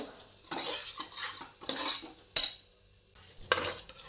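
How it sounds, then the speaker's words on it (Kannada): Ground green masala for veg biryani frying in a pan, stirred with a metal spoon that scrapes and clinks in several separate bursts, with quiet gaps between them and only a faint sizzle. "ಮಸಾಲೆ ಎಲ್ಲ ಚೆನ್ನಾಗಿ ಫ್ರೈ ಆಗ್ತಾ ಬಂತು"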